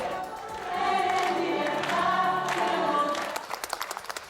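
Health workers and hospitalized patients applauding together at the IFEMA field hospital in Madrid, a swelling wave of clapping and cheering that fades into a few separate, sharper claps at the end.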